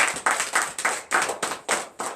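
Church congregation hand clapping during morning prayer in Benin, steady rhythmic bursts, about eight claps at a lively even pace, with no voices.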